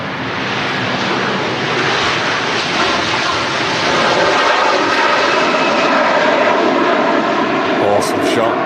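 An airliner taking off at Manchester Airport, a loud, sustained broadband jet roar that swells slightly and holds steady throughout, with voices faintly present beneath it.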